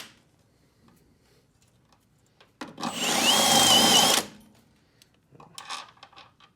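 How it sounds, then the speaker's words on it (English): A step drill bit bores bolt holes in metal for CompBrake camber plates on a MK2 Jetta, a loud steady whine lasting about a second and a half, with quieter handling noises before and after. "I go ahead, slowly go with this step bit and see if it's good enough for the bolts"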